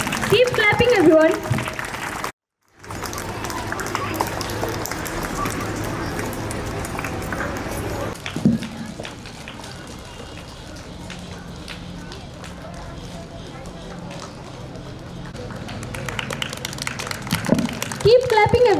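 Sustained audience clapping at a school investiture ceremony, a dense crackle of hands broken by a brief dropout near the start and then carrying on, with voices talking over it.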